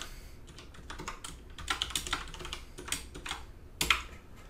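Login credentials being typed on a computer keyboard: a run of quick, uneven keystroke clicks in short bursts with brief pauses and one sharper tap near the end, close and clear with no talking.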